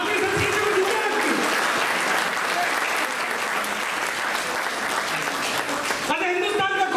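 An audience at a political speech gives sustained applause, loud and continuous clapping from a crowd that carries on for several seconds before a voice breaks in near the end.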